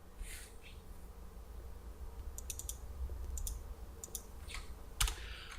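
Quiet clicking of a computer keyboard while writing C# code, a few short bursts of keystrokes over a faint steady room hum.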